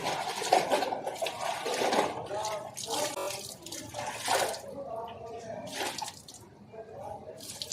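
Clothes are washed by hand in water on a home balcony: bursts of splashing and sloshing come in uneven, repeated rounds, close by, with a voice at times.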